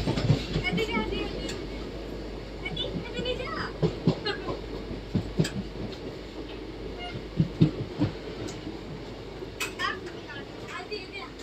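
A passenger train runs along the tracks on a route toward Rayagada, giving a steady low rumble with intermittent rail clacks and knocks, while people talk nearby throughout.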